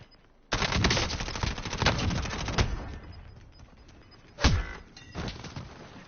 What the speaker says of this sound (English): That sniper got me, I'm afraid.